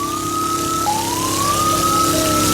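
A fire engine siren wails steadily, loud and close, as the truck arrives at a wooden house burning at night in Palangkaraya, Kalimantan Tengah; the tone glides up and holds over a constant rumble of traffic and engine noise.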